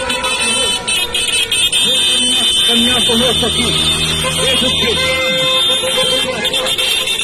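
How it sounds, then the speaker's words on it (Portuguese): Car horns honk repeatedly over a noisy street protest crowd while someone speaks loudly over the din. "Buzina, buzina!"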